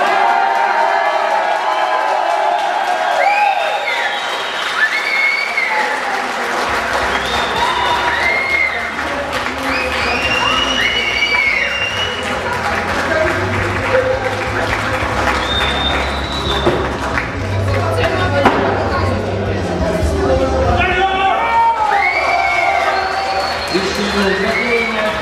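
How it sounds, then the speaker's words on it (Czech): A crowd at the Dymokurská koule 2013 award ceremony claps and cheers for a first-place winner, loud sustained applause mixed with shouts and whoops, with a low rumbling hum joining in after several seconds and voices calling throughout. "připravte se na potlesk"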